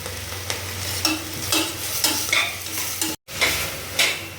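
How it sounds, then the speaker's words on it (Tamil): Ivy gourd (kovakkai) and tomato with salt sautéing in a pan for a dry fry, loud close sizzling with a spatula scraping and stirring at a steady pace, briefly cutting out once. "அப்புறம் கோவக்காய் போட்டுக்கலாம். கொஞ்சம் வதங்கிறதுக்கு உப்பு போட்டுக்கலாம்."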